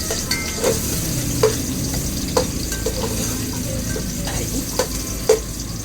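Chopped onion hits a hot pot for pork sinigang and sizzles steadily and close, with occasional scrapes and clinks of stirring over the constant frying hiss.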